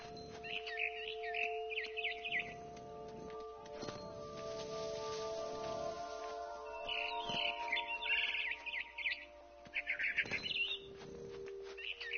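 Barn swallow chirping in the video game What Remains of Edith Finch: repeated bursts of bright, twittering calls come and go over a steady tonal game ambience, fairly close and clear, with no one talking.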